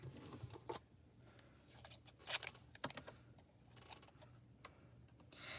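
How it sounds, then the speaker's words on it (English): Spellbinders Platinum die-cutting machine pressing glimmer paper, a faint sequence of sharp clicks and rustling creaks with quiet gaps between, close by and without talk. "So I'm just gonna cut this on my platinum machine."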